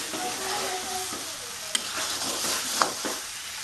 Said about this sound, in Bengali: আমি বেশ অনেকক্ষণ ধরেই কষছি মাংসটা